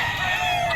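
A yellow-legged hatch gamefowl stag crows once in a short burst at a market stall, the call clear and fairly close amid a faint background.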